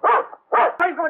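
A dog barks twice in quick succession, loud and close, followed by a whining yelp. The scene is from a 1972 Hindi film.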